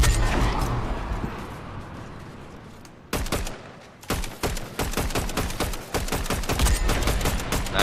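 Railgun shots and assault-rifle gunfire in a video game, starting as a dense, fading rumble, then a sharp burst and a long run of rapid, loud, evenly spaced shots.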